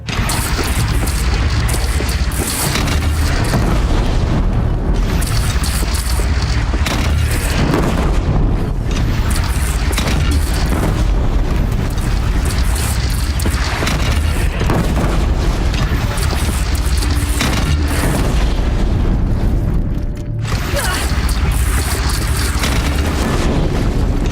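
Continuous heavy booming and explosive blasts of cannon fire in Horizon Zero Dawn, dense and loud throughout with rumbling bursts.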